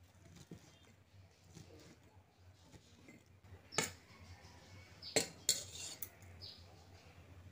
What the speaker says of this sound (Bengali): এবার এইভাবে কুচিয়ে নিচ্ছি।